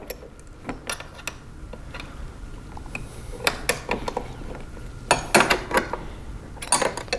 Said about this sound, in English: I'll use my 7/32 Allen key and my 9/16 wrench and just tighten that down